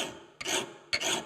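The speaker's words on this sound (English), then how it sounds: "So I'm filing up." A file cutting a bevel on a chair devil blade in two quick, close strokes, each a sharp bright rasp that starts abruptly and fades, separated by a brief pause.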